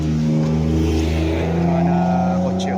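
Cars on a road beside a farm lot in Calauan, Laguna, pass close and loud with a sustained engine roar and tire noise, while a voice talks nearby.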